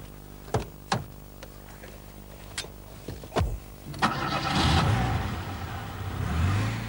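Vauxhall Frontera fitted with a 2-litre engine from the Vauxhall Cavalier: several sharp clunks, then the engine starts and revs, rising into a steady driving drone.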